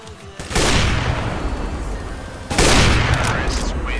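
Gunfire in Counter-Strike: Global Offensive, two loud sharp shots about two seconds apart, each followed by a booming decay, with players talking in the background.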